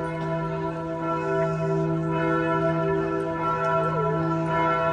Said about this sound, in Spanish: Suenan las campanas en América.